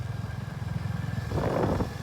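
A motorcycle ridden through rainy weather thumps along with a steady, rhythmic engine pulse, and a rougher surge of noise rises briefly near the end.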